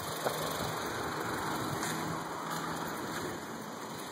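An old car engine idles steadily with a low rumbling drone and faint rattling, continuous throughout at moderate distance.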